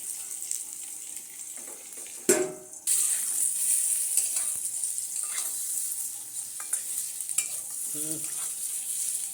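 Potato slices frying in oil in a home kitchen give a steady, close crackling sizzle with occasional stirring scrapes and one sharp knock of the utensil, with no talking.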